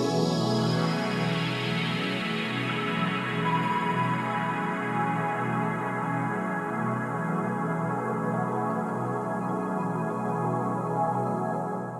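A lush, sustained synth pad from a Korg TR rack swells and holds, its tones smeared by a big delay into a wide, echoing wash that fades slowly.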